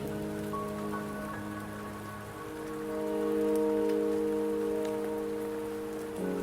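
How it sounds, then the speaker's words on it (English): Steady rain falls in the video game Wuthering Waves, a soft, even hiss running throughout beneath sustained musical tones. "Don't worry, the rain won't last much longer."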